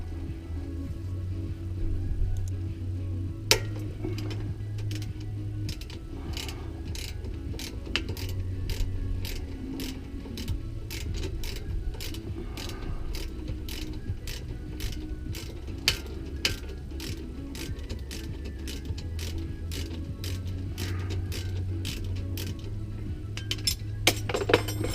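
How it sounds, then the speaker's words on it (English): Faint metallic clicking and ratcheting from a wrench working on the caliper pin bolt of 2003 Honda brakes, steady light clinks repeating over a low background hum, no talk. "I use a 19 millimeter wrench to hold the back of the nut for the caliper pin"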